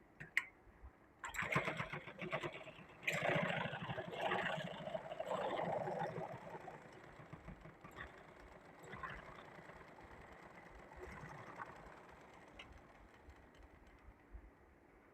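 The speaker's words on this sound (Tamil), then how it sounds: "எக்ஸ்ட்ரா நம்ம வந்து இன்னும் ஒரு தையல் மட்டும் அடிச்சுக்கிட்டோம் அப்படின்னா இன்னும் ஃபினிஷிங் பக்காவாக இரு" A sewing machine stitches a blouse neck pattern, running in a close mechanical whir that starts after a moment, stays loudest early, then eases to a lighter steady hum before fading.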